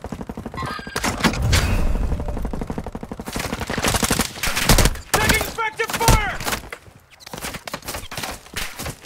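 Rapid bursts of automatic gunfire and single shots from a Warzone 2 battle royale match, loud and dense throughout, with brief thuds and game radio chatter mixed in.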